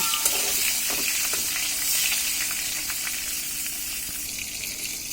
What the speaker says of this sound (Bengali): বেগুনগুলোকে হালকা ভেজে নেব।